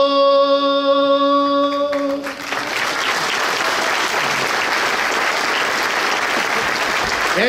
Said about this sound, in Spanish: Ese aplauso a las madres